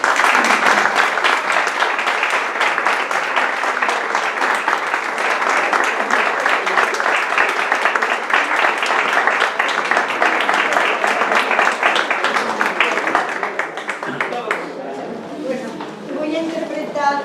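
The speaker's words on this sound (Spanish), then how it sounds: "Un fuerte aplauso para Camino de la Puente" An audience applauds a musician, a pianist about to play Chopin, at a poetry evening, with long, dense clapping that holds steady before fading out near the end as voices emerge.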